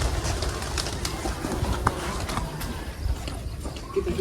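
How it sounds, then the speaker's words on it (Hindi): Pigeons take flight with scattered wing flaps and soft cooing, fairly close, over a busy background with occasional voices. "सारे के सारे कबूतर भागे फिर रहे हैं"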